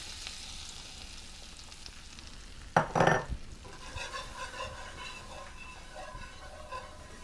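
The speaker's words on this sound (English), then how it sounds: "So I'm going to melt my butter in my skillet," Butter and flour are stirred together in a skillet to start a dark roux for slow cooker gumbo. A soft, steady sizzle runs throughout, broken by a brief clatter of a utensil against the pan and then a quiet, continuous scraping.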